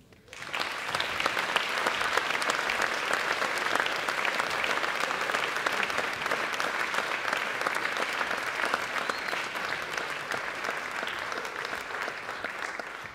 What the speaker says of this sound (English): So with great pride, please put your hands together for Anthony Robertson.